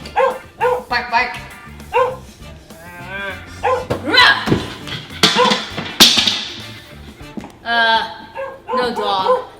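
A person imitates a dog with a series of loud, close woofs and yips mixed with excited speech, and with a sharp smack partway through.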